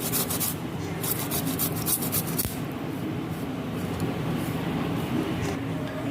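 Ginger being grated for jackfruit kofta, a steady close rasping and rubbing that runs without a break throughout, with no talk over it.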